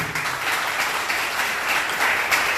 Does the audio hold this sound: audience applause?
yes